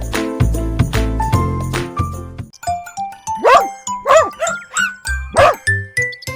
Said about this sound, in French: aboyait et remuait la queue de joie